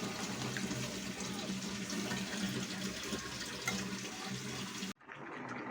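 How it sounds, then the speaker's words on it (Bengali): Water pours into frying spices for khichuri, a steady hissing, splashing rush that runs for about five seconds and then cuts off abruptly to a faint residual sizzle. "সামান্য জল দেব। জল দিয়ে আবার একটু কষিয়ে নেব।"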